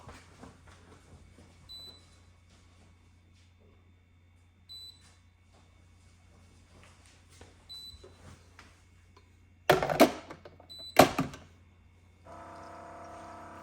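A Joyoung DJ10U K1 soy milk maker runs its maintenance cycle, spraying water into the grinding chamber: a low steady hum with periodic faint beeps and clicks, then two loud bursts of splashing or grinding and a closing whir.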